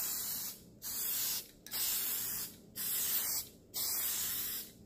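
Spray sealant goes onto alcohol ink art on Yupo paper in four short, soft hissing bursts, each lasting about a second with brief quiet gaps between, close and clear.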